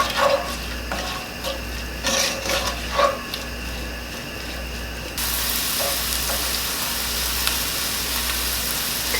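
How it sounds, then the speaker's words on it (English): Herbs sizzling in oil and butter in a pot, a low steady fry with scattered pops and a few clinks, the hiss growing slightly fuller partway through. "I always like to put the herbs in with the oil or the butter"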